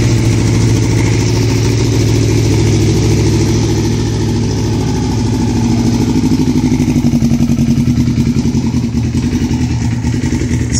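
A Kawasaki Ninja 250R engine bored out to 330 cc, with a roller crankshaft and a rain-soaked body, runs loud and close at a rough, steady idle, its pulsing drone varying only slightly in pitch.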